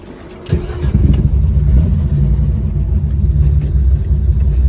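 A Holden Torana, repaired after being wrecked, pulls away in first gear, its engine rumbling low and steady up close as revs build after a brief burst at the start.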